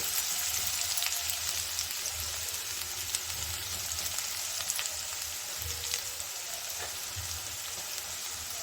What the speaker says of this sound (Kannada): ಈಗ ಕಟ್ ಮಾಡಿ ಇಟ್ಕೊಂಡಿರೋ ಈರುಳ್ಳಿನ ಕೈಯಿಂದ ಒಂದ್ಸಲ ಹೀಗೆ ಬಿಡಿಸಿ ಹಾಕ್ಕೊಳ್ಳಿ